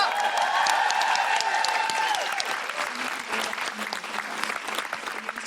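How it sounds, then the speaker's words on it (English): A podcast audience gives Clemency Carter a warm round of applause, dense clapping with a little cheering that swells at first and then gradually thins out. "Big round of applause for Clemency Carter"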